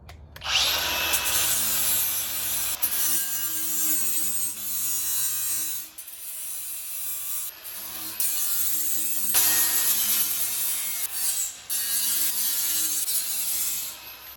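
A harsh, high-pitched Milwaukee M18 cordless grinder screech cutting metal, loud and close, running in long bursts with brief pauses between cuts.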